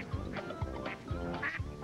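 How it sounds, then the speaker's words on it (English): Ducks in a fountain quack in a quick series of short nasal calls, several in a row at a moderate distance, with a faint background murmur. "remove the ducks from the rainbow fountain"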